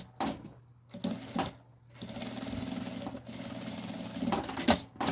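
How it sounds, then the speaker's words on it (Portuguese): A sewing machine stitches the lining of a fabric bag with a steady mechanical whir, broken into short bursts with pauses at the start and then running continuously up close. "passa uma costurinha"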